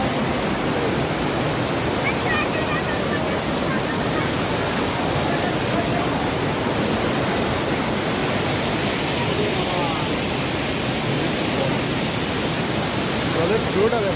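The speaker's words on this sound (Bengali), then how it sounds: "what a falls" A waterfall in Pelling, West Sikkim roars as a steady, loud, broadband rush of falling water that stays constant throughout, with a voice faintly audible beneath it.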